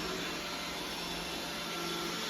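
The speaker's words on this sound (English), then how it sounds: "think it just kicked the vacuum speed down a bit" A Roomba 980 robot vacuum hums steadily at a moderate, even pitch on a hardwood floor, running at lower speed, a constant whirring drone with no breaks, heard fairly close.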